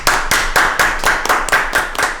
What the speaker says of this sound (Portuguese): Aí você bate palma pro cara